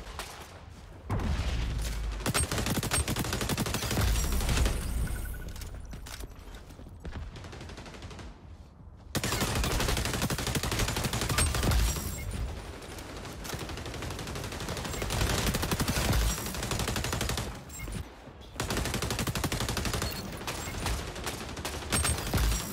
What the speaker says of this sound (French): je viens de lui tirer 16 balles dans la tête